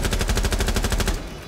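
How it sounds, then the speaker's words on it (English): Automatic gunfire in Rainbow Six Siege: a rapid, close, loud burst of about a dozen evenly spaced shots that stops abruptly, leaving a short ringing tail. "Shoot through it, just shoot"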